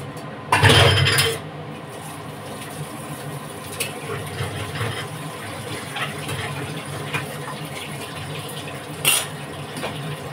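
Water poured into a kadai with a burnt bottom to soak it in a home kitchen: a short, loud gushing splash near the start, then low steady background hum with faint clinks and one brief clatter later.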